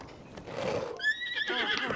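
A horse in Zelda: Breath of the Wild gives one loud, shrill whinny that rises out of soft hoof clip-clops and rustling, close by and alone.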